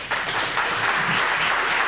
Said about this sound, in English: Have an extra round of applause for Alexey